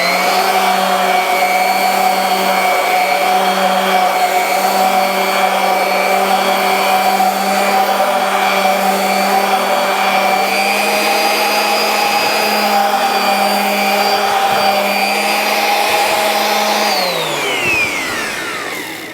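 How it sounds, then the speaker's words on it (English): An electric sander runs steadily and loudly on a wooden candle stand, a constant whirring drone with no pauses that winds down and stops near the end. "I'll hit it with a sander and smooth any rough spots off"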